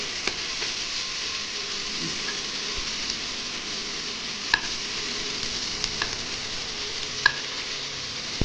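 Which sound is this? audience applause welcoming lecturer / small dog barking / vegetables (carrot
vegetables (carrot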